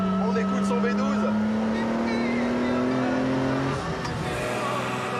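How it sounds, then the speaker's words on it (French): A Lamborghini Miura's V12 engine drones loudly at steady revs, its tone climbing slightly before easing off, with a voice faintly present. "Et aujourd'hui, on écoute son V12."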